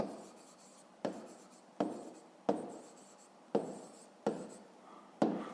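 A pen or chalk writes out a math solution, with a series of about seven distinct scratchy strokes, each a sharp onset that fades, close and quiet with no speech.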